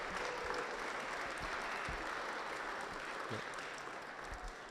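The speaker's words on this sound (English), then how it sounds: "Let's give a round of applause to the people who are being honored tonight." Audience applause at a Dean's List gala honoring students, a steady, moderately distant wash of clapping that holds evenly throughout, with no one speaking over it.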